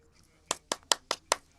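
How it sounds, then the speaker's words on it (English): Five crisp hand claps in an even, quick rhythm, close and clear against a quiet background. "Yay, hand clap."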